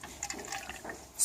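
Copper sulfate solution, about 25 millilitres, poured into a container for a temperature measurement, giving a soft short trickle of liquid, close and quiet, with a brighter splash at the end.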